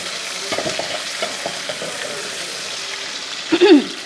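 Ginger-garlic paste and onions sizzling steadily in a pan with soft stirring scrapes, close and continuous, with a brief voice sound near the end.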